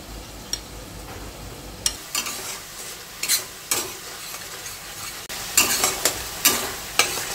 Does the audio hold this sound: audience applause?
no